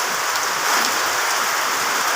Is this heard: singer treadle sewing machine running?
no